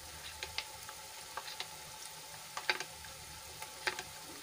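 Masala spices sauté in a pan with a quiet, steady sizzle, broken by scattered faint pops and crackles; no voices are heard.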